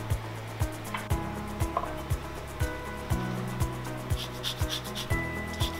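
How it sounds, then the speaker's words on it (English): An orange is zested on a microplane grater, producing close, rhythmic scraping rubs, about two strokes per second, each with a soft rasping swish over a low background hum. "I like to use my microplane for this because it zests it very nice and fine."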